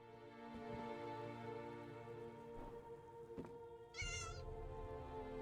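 In The Elder Scrolls Online, a cat lets out a single drawn-out meow near the end over a steady bed of in-game ambience, with faint rain-like patter and a low hum.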